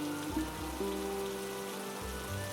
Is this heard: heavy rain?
yes